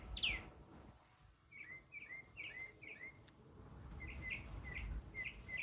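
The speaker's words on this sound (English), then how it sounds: "I love all the birds that are around here." Wild birds outdoors sing in short repeated chirping phrases, moderately near but faint, spaced across a soft background of insect hum and ambient noise.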